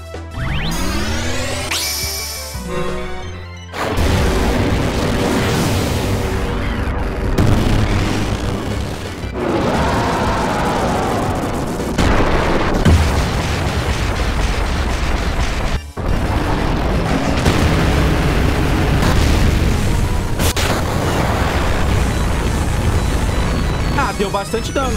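Cannon blasts and heavy explosions from a Final Fantasy VIII battle boom loudly over a dense, continuous game soundtrack, with several sharp impacts and a voice talking over the action.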